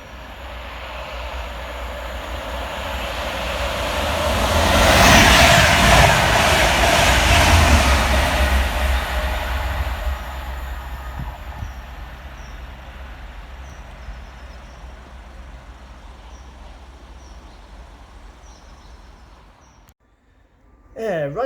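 A train pulls into a railway station, its rumble and rushing noise swelling over several seconds, peaking midway and then slowly fading, with a brief voice near the end.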